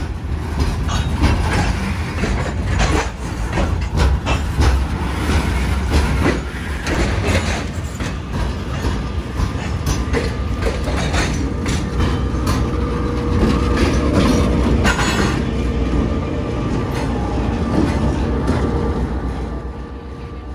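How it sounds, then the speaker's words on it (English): Locomotives shove cuts of freight cars along the Florida East Coast Railway's Medley lead in a rail yard, a loud, steady rumble of heavy engines with rolling wheel clatter and scattered clanks throughout. "you can catch some of their locomotives shoving the cuts of cars"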